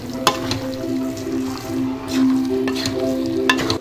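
Chicken with onions and curry leaves stirred in a pan, giving a soft sizzle with scraping and clinking of a spoon, close and fairly steady.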